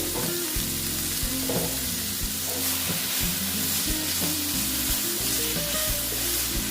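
Okra coated in gram flour fries slowly in a covered pan, giving a steady close sizzle with soft stirring scrapes and clinks repeating at irregular intervals throughout.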